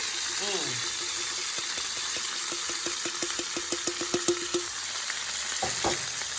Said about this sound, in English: we're just gonna get it in and saute it up with our peppers and onion